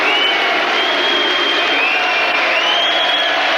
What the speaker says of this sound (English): Why they're booing Lewis, heaven alone knows.